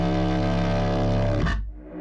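A war horn sample processed into a gritty, distorted dubstep tone holds a buzzing blast for about one and a half seconds, then breaks off into a short low rumble.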